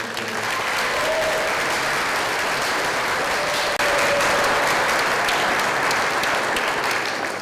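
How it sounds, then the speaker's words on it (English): An audience applauds students at an instrumental concert, a dense, continuous roar of clapping that stays full and steady throughout, with a faint tonal whistle or squeak rising briefly within it. "Can we give them another round of applause?"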